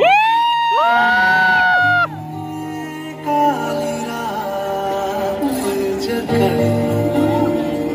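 A college fresher party crowd shouts, cheers and whoops loudly and continuously, with voices rising into a sustained, boisterous roar close by.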